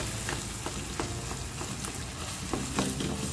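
Eggplant bharta mixture fries and is stirred in a pan, a dense continuous sizzle with periodic scraping strokes, close and steady with no voices.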